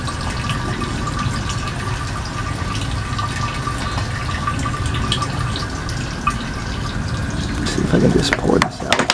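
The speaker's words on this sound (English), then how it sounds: "And it's still draining fuel" Fuel drains from a removed fuel pump assembly of a 1999 Saturn SL2, a steady trickling and dripping liquid flow that ends in a louder splashy spill, with a person talking over it.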